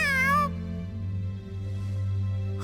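A cartoonish cat meows once, clear and close, a short rising-falling cry at the very start, then a low steady game background hum from Tales of Xillia 2 carries on alone.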